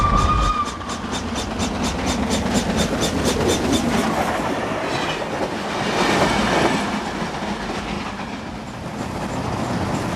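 The Flying Scotsman steam locomotive running on rails in New South Wales, with a fast, regular clickety-clack of wheels over rail joints, a steady rolling rumble and a faint squeal, loud and sustained.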